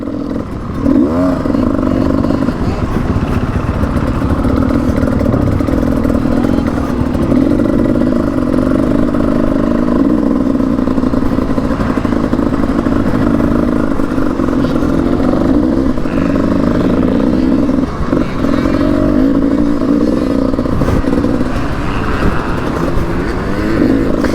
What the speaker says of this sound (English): Use this 2-stroke again, go around the corner.